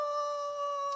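A man imitates a wolf howl with his voice, a sustained, steady, fairly loud tone held for about a second with no other sound around it.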